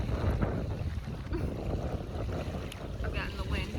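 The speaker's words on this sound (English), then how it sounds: "Again, the wind driving me nuts" Wind blowing over a northern Michigan lake, roaring and buffeting the microphone continuously at close range, with faint water sloshing underneath.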